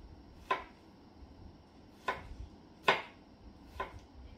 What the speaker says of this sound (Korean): 참외를 이렇게 썰어요